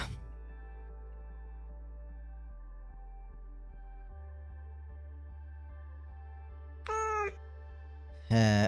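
A cat lets out two short meows near the end, the second cut off, rising over a low, steady droning hum that fills the rest of the clip.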